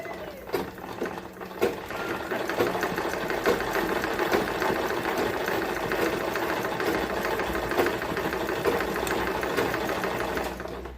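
Zigzag sewing machine stitching a picco edge along stretched cloth, a rapid, even mechanical clatter running continuously at close range.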